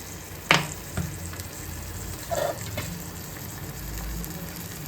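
Fenugreek and papad sizzle gently in a pan while a sharp knock and occasional spatula scrapes cut through the steady frying noise.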